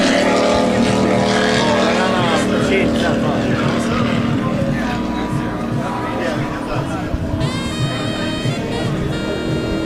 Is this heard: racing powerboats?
yes